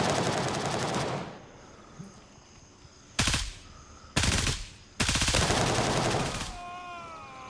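Bursts of automatic gunfire in the tactical shooter Gray Zone Warfare, loud and close, arriving as several separate rapid volleys with short quiet gaps between them.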